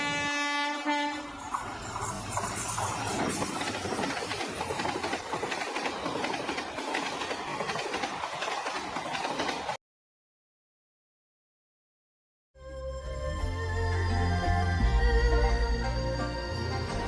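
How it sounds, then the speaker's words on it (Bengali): The New Jalpaiguri Shatabdi Express rumbles and clatters loudly on the rails with horn blasts. The sound cuts to a few seconds of silence, then the heavy train returns close by, with blaring horn tones. "বাধ্য হয়ে ধরেছিলাম নিউ জলপাইগুড়ি শতাব্দী এক্সপ্রেস"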